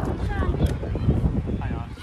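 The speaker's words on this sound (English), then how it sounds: "It's a little breezy." Breezy wind outdoors at a youth soccer game, a steady broadband rush and buffeting against the microphone that fills the whole stretch, with faint voices in the background.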